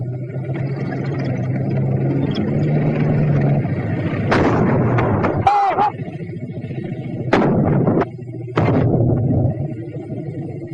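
A World War II 37mm anti-tank gun fires at a tank's side in a few loud, sharp blasts spaced several seconds apart over a rumbling background, with someone talking between shots.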